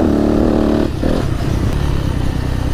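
A KTM-style 250 XC dirt bike runs close by, its two-stroke engine droning loud and steady with a brief dip in pitch before settling into a rougher, lower idle-like rumble.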